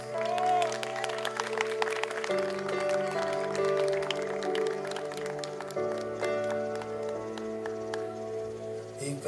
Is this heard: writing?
no